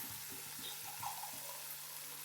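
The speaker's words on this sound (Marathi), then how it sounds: "आता यामध्ये आपल्याला पाणी घालून घ्यायचं आहे" Water poured from a vessel into egg curry gravy in a pan, a faint continuous splashing stream lasting a couple of seconds, with no voices.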